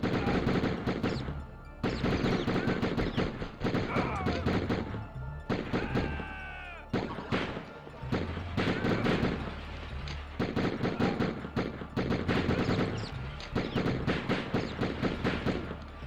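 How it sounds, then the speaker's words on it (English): Video game gunfire: rapid, loud, close bursts of automatic shots repeat almost nonstop, with short gaps between volleys and occasional crashing impacts. "Just kind of firing indiscriminately now."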